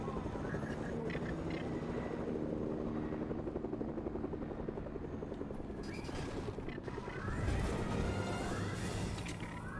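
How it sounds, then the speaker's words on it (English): A helicopter in Fortnite on Nintendo Switch thrums steadily and loudly throughout, its rotor drone continuous and close, with a slight swell near the end and no voices. "Oh, they got the chopper in there, gone."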